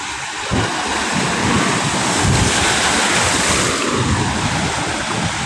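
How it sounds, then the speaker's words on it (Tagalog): Steady roar of ocean surf with big waves breaking continuously on Manila Bay, mixed with gusty wind buffeting the microphone; no voices. "Naliligo tayo sa alon dito."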